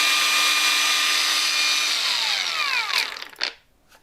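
A WOSAI cordless angle grinder runs at full speed with a steady, loud whine, then winds down as the pitch falls away, followed by a couple of handling clunks.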